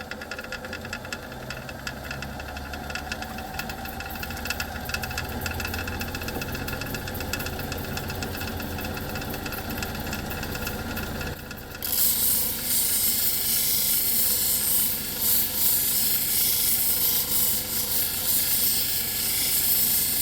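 A stone grinding and polishing machine runs with a 140 grit wheel, giving a steady close mechanical hum and rumble throughout, shifting to a harsher, brighter hiss partway through, with no talk.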